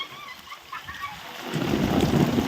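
Rainwater runoff from a market area rushes and splashes steadily nearby toward a river, the flow swelling louder and fuller partway through.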